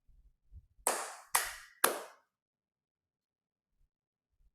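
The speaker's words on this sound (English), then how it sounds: "we're gonna do a little clapping game" Three sharp hand claps in an even rhythm, close and clear, each ringing briefly before fading into near silence, with a few soft low thumps before them.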